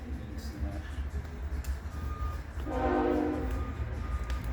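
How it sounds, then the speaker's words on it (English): A train passes at a distance outside a workshop, a steady low rumble that swells in the last two seconds as the cars roll by closer. "There's a choo-choo going by."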